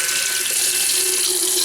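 Water gushes steadily from a tap over a Sejoy S3 BlackStone 3 wet-or-dry rotary electric shaver, a loud, continuous hissing splash held close for the whole short stretch.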